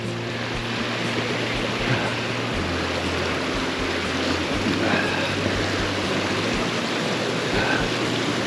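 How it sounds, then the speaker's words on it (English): A waterfall on Three Sisters Creek in the Canadian Rockies roars as a steady, loud broadband rush of falling water, continuous and close throughout. "here's the second waterfall. Look at that."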